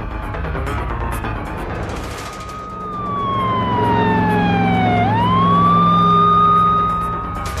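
A fire truck races along with its siren wailing loudly and close, the tone sweeping down then climbing again over a rumbling engine.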